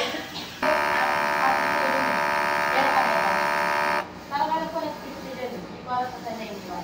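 An eco-solvent printer runs a print head cleaning cycle, giving a steady mechanical buzz and hum for about three and a half seconds before stopping, with talk following afterward.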